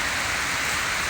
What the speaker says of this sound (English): the rain is coming at this angle, straight against the wall that they've just done